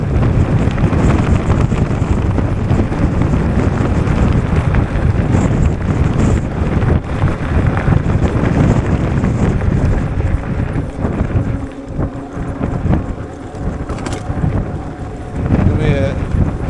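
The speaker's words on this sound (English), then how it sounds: "I hate riding a pedal bike into the wind." Strong wind roars and buffets the microphone continuously while riding a Wooken e-bike into the wind in bad weather, loud and close throughout with brief gusty swells.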